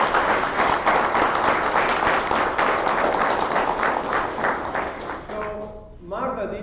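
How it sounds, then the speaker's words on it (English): A room full of people applauds warmly and steadily for several seconds, then the clapping tapers off as a voice begins speaking. "So, warm round of applause to all of you."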